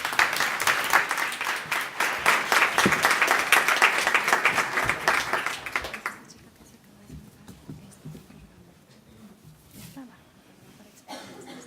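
An audience at a forum session on gender violence applauds a speaker with dense, steady clapping for several seconds. The clapping then fades into a quiet room with faint murmuring.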